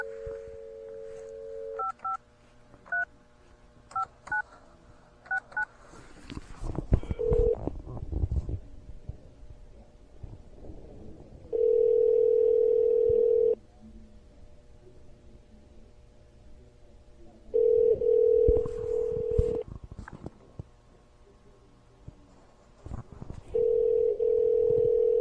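Telephone keypad tones beep in short bursts, followed by steady ringback or dial tone segments repeating on a phone line, with some handling noise between them.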